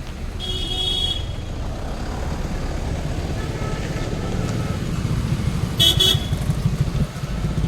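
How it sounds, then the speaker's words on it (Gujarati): Heavy road traffic in Daman rumbles continuously with engines and motorcycles passing close by, while car horns honk in a long blast early on and again in a double toot near the end. "કેટલું બધું ટ્રાફિક છે"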